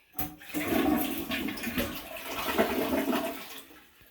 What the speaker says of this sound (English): We're going to flush it